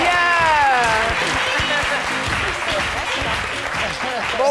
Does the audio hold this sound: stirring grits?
no